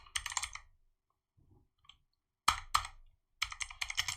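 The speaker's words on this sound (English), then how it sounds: "This guy has insane typing speed" Rapid bursts of keystrokes on a computer keyboard, loud and close, clattering in quick clusters with short pauses between runs and no talking.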